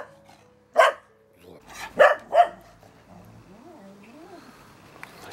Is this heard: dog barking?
yes